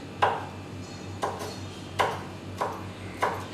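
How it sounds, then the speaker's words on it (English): A knife chops fresh red chilies on a board in five separate, evenly spaced cuts. Each cut lands with a crisp tap, close and moderately loud against a quiet background. "We have got some fresh red chilies and we are going to cut them up a bit"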